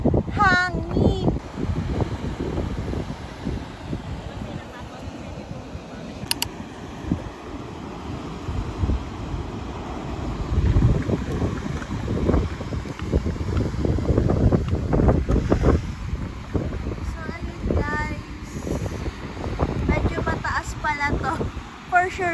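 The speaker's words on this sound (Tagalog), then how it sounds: "sobrang lakas ng hangin." Strong wind batters the microphone at sea, with waves and spray crashing around a boat in gusting roars, while people talk intermittently over the din.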